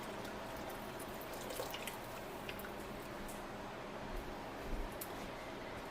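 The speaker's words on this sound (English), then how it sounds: "carefully tilt it so you can get that water out" Water trickles and drips steadily as hot water is tipped out of a canning jar lifted from a home canning pot, a faint continuous wet pour with small splashes.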